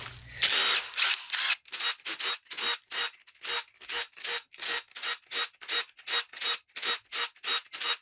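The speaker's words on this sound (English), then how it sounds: "I'll go ahead and get all the 10mm bolt heads out." Repeated ratcheting bursts from a wrench backing out 10mm bolt heads on a 4L80E transmission during teardown, a rapid regular series of close, loud clicking rasps with brief pauses between them, no talking.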